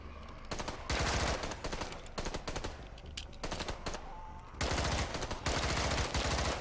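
Rapid pistol gunfire from a zombie shooter video game, Contagion, cracking in quick bursts and single shots throughout, loud and close with brief gaps between volleys.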